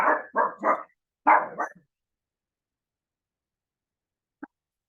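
A dog barks five times in two quick bursts, close and loud, then after a long silence gives one short faint yip near the end.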